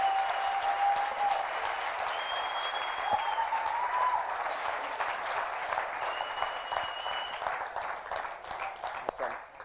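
University audience at Pretoria applauding to welcome speaker Charles Malanga, continuous broad clapping that stays steady and then thins slightly toward the end, with faint voices mixed in.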